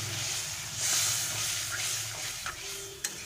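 Water poured into a hot pan of spice and tomato masala for a latha fish curry, giving a steady steaming hiss and bubbling sizzle with a few faint stirring clinks, fairly quiet and alone.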